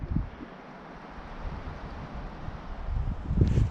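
Steady taiga wind buffets the microphone in above-freezing weather, a low rumbling roar that swells into stronger gusts near the end, with no voices.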